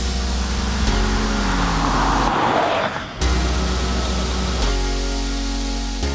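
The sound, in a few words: Honda Civic Turbo coupe accelerating 0 to 60 mph at full throttle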